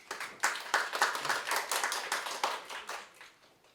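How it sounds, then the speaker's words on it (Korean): A school audience applauds at a youth debate on respecting parents' views about careers. The steady, moderately loud clapping lasts about four seconds and fades a little toward the end, with no talking. "여러분 박수로 환영해 주십시오"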